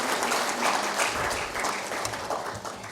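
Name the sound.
applause for K.B. Kachru, President, Hotel Association of India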